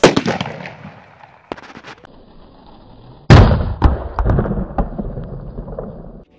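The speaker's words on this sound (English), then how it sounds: "The sublimation of dry ice brings about a higher pressure inside bottle than atmospheric pressure. So, it simply explodes!" A plastic bottle holding dry ice and water bursts with a loud sharp bang, and a second, bigger blast follows a couple of seconds later, each trailing off into rumbling echoes.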